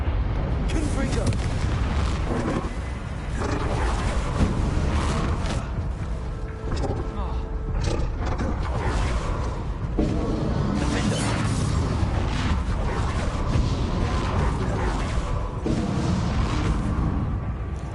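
Confringo fire-blast spells in Hogwarts Legacy, heavy booming impacts and crackling explosions pounding continuously amid combat noise, loud and dense throughout, with a voice talking over the action.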